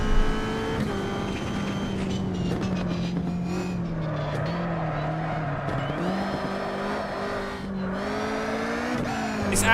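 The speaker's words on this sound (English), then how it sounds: "Tyre skid sounds really good." Engine whine of a racing car in a racing video game with screeching tyre skids, sustained and loud, the pitch shifting as the car slides and accelerates.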